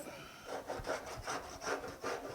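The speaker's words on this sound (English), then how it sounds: "Let's run the cheese grater over it real quick" A cheese grater rasp files body filler on a 1965 Chevelle Malibu SS, five or six rhythmic scraping strokes, close and fairly quiet, with no talking.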